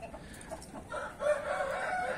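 A young silver rooster calls briefly at close range, a short hoarse crowing burst over quiet farmyard background with no talking.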